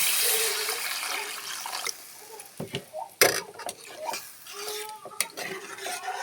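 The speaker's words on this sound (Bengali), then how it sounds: "ঝোলের পানি দিয়ে দেবো।" Water is poured into a pan of oil-rich fried spices for a fish curry: a gushing splash gives way to bubbling and sputtering, broken by a few knocks and clatters.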